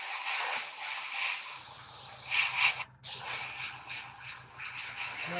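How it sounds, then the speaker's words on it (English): Continuous airbrush-style hiss of paint being sprayed onto a 1/48 scale F-4U model aircraft, steady and close, with a brief gap near the middle and a faint low pulsing compressor hum underneath. "I'm gonna do some spraying too"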